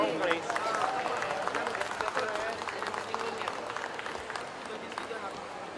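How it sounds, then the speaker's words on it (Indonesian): A talk show audience applauds as two guests arrive, a dense wash of clapping hands from a crowd, fairly loud and sustained, with a voice speaking over it. "Tepuk tangan yang meriah untuk beliau berdua."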